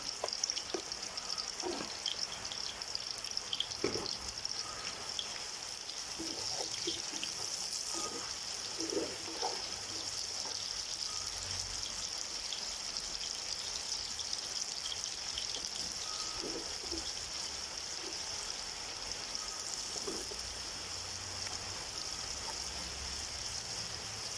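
Onions frying in a pan with a spoonful of salt make a soft, steady sizzle throughout, with scattered light clinks and stirring taps over the low hiss.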